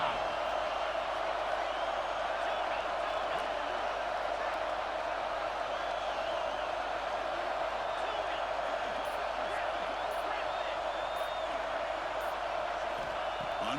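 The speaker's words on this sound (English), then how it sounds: "This crowd is trying to inspire this defense to make a big red zone stop." Steady crowd roar in a college football video game (EA Sports College Football 26) as fans urge the defense for a red zone stop, a dense continuous wash of noise throughout with commentary speech over it.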